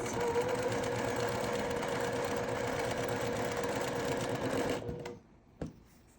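A sewing machine stitching curved seams on a quilt block runs in a steady, fast, close-up whir for about five seconds, then stops abruptly, followed by a brief mechanical click.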